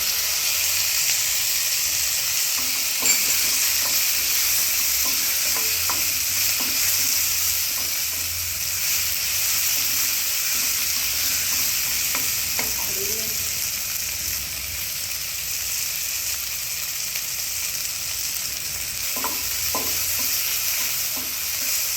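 Chopped vegetables and tomatoes tossed into hot oil with lightly browned cumin for poha, a continuous close frying hiss with occasional scrapes and stirring clatter across the whole stretch.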